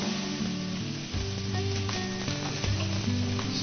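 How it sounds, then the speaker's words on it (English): Peppers and onions sizzling and frying in hot olive oil in a big pot for chili, a steady loud crackle with occasional stirring, no voices. "Let's get this thing hot, put in some olive oil, and add in our vegetables."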